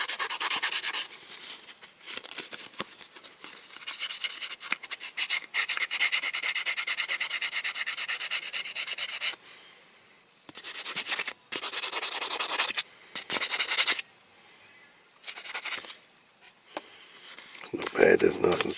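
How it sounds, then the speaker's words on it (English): Sandpaper rubs by hand over a Matchbox King Size model car in quick, rasping strokes, close and fairly soft, with brief pauses between bursts of scratching. "Might just run around it with the old sandpaper."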